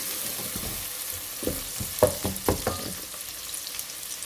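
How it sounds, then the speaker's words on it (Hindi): Onions browning on medium heat for dhaba-style maash ki daal, a soft steady sizzle broken by several sharp spatula scrapes and taps near the middle, with no voices. "अब हम इसे थोड़ा ब्राउन करके इसमें दूसरे मसाले हम डालेंगे"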